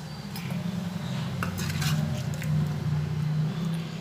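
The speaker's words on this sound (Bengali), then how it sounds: "সেই জন্য আমি এটা একটা পাত্রে করে তুলে দিচ্ছি।" Papad kalia, a curry made with papad, being spooned from the cooking pot into a serving bowl, with soft scrapes and light clinks of utensil on metal over a low background hum, close but quiet.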